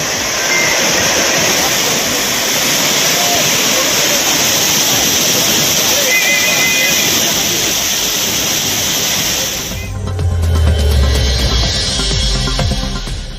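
Courtallam Main Falls pouring down as tourists bathe: a loud, continuous rushing roar that shifts abruptly near the end.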